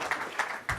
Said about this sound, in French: on peut les applaudir, ils ont été excellents